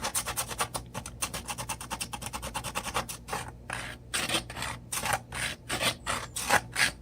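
A small hand file rasps along the edge of a channel on a 3D-printed part, producing steady rapid scraping strokes up close, with brief pauses between bursts and no talk.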